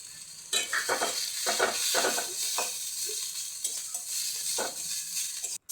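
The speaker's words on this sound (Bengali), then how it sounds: "ওই তেলের মধ্যেই সজনে ফুলগুলো ভেজে নিচ্ছি।" Drumstick flowers fry in hot oil with a pinch of turmeric, giving a soft continuous sizzle broken by repeated scraping stirs of a spatula in the pan. No one speaks.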